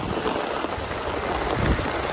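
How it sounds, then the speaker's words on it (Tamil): Heavy rain in a storm: a dense, steady hiss of falling water fills the whole stretch, loud and unbroken, with no voices. "செம்ம அழ பாருங்க எவ்வளோ மழை பாருங்க"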